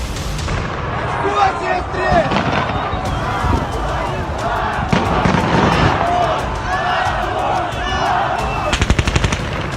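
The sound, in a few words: gunfire crackling during a crowd protest in Ukraine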